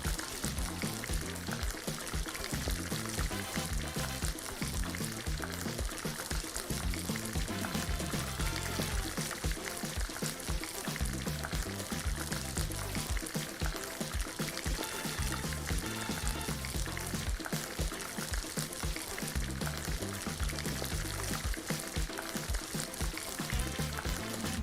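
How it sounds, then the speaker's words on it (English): Freshly harvested coconut milk is poured and stirred into a curry coconut corn soup, giving a dense, continuous wet pouring and bubbling hiss that stays steady and fairly loud throughout with no talking. "Along with some fresh harvest coconut milk. And we're mixing it up again."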